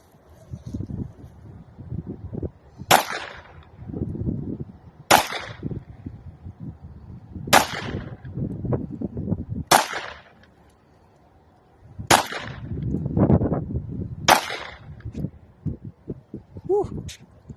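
Six sharp, loud pistol shots ring out at roughly two-second intervals outdoors, with heavy wind noise buffeting the microphone between them.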